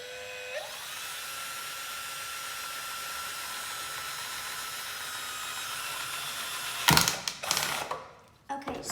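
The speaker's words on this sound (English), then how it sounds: "So now we're just gonna drill the hole." A steady high-pitched drill whine runs for several seconds while boring a hole in a plastic cap, then breaks into rough grinding and clattering bursts near the end.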